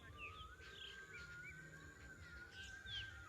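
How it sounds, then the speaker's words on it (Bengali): Birds call in quiet, sparse countryside, with a few thin chirps and whistles rising faintly over a low ambient hum. A high steady tone runs underneath. "চারিদিকে পাখিদের ডাক"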